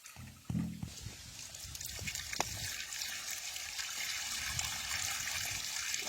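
Irrigation water released into a village onion field rushes and trickles steadily at a faint, distant level after a short bump near the start, with no talking.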